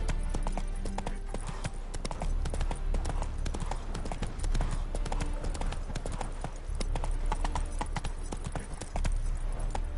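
Horse hooves galloping in The Witcher 3 video game, a steady, dense clip-clop drumming continuously throughout, loud and close, over a rumbling low background.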